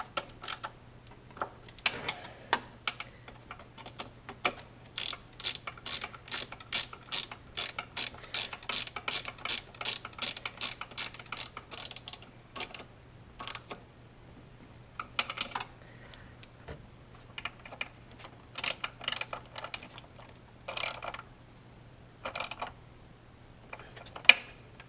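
A socket ratchet clicks in quick, repeated bursts while snugging the throttle body bolts on a Porsche Cayenne with a T30 socket, close and crisp, pausing between bolts over a faint steady hum.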